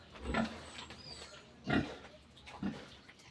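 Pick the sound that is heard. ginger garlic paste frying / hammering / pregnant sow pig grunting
pregnant sow pig grunting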